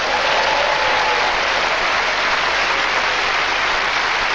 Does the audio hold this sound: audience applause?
yes